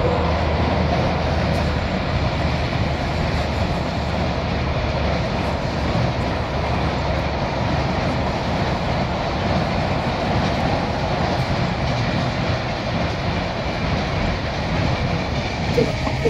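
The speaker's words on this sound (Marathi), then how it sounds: "बघा ट्रेन चालू आहे" Avantika Express train rolling past steadily near a bridge on the Narmada riverbank at Bhikampur, a continuous loud rumble of wheels and cars filling the whole stretch with no pause.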